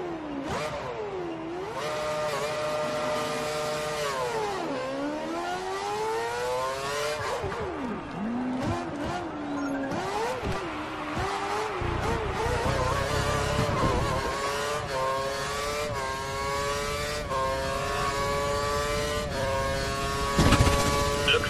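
A Formula 1 car in the F1 2013 video game revs hard through repeated rising and falling engine sweeps, loud and constant, slowing for a hairpin and then accelerating hard out of the corner.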